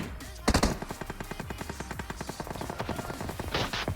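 Rapid automatic gunfire in the mobile game PUBG Mobile, a steady rattling burst of shots with a couple of louder blasts, continuous and close.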